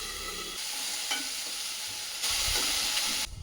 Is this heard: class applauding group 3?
no